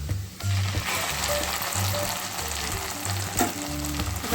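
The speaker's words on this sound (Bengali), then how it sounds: "লাল লাল করে ভালোভাবে ভেজে নেব এই দেখুন পেঁয়াজগুলো ভাজা হয়ে গেছে এবার সর্ষে পোস্তটা দিয়ে দেবো" Onions and a mustard-poppy seed paste fry in a pan for a mustard rohu fish dish, giving a steady, loud sizzle with occasional stirring scrapes throughout.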